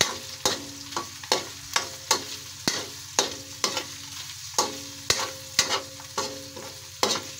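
Ingredients with salt and pork stock cube sautéing in a pan before pancit bihon goes in, steady sizzling under regular, evenly spaced clanks of a spatula stirring against the metal, close and alone.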